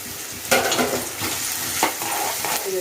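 Onion, ginger and green chili sautéing in a hot pan, a steady sizzle broken by several distinct spatula scrapes and stirring strokes at irregular intervals, close and fairly loud.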